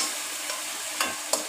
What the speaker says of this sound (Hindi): और ये आ गया आपका अदरक लहसुन, थोड़ा सा वो डालूँगी इसमें। तो भूनना है हमने थोड़ा सा, बस भूनेंगे